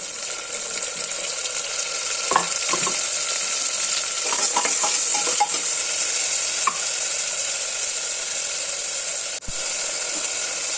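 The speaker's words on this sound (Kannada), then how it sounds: "ಇವಾಗ ಈರುಳ್ಳಿ ಫ್ರೈ ಆಗ್ತಾ ಇದೆ." Onions frying in oil in a pan for a mutton gravy, a steady close sizzle throughout with a few scraping stirs and clinks, no voices.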